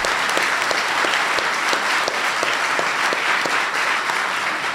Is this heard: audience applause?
yes